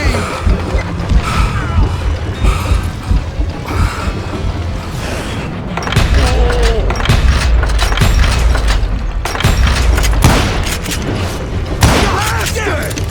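Gunfire in the Western shooter game Call of Juarez: Gunslinger, loud booming shots and bursts mixed with dense in-game music, effects and shouting character voices.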